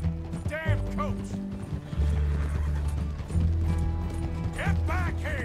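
A horse-drawn coach in the video game Red Dead Redemption 2 rolls along with rattling wheels and hoofbeats, and the horses whinny loudly several times over the busy game mix.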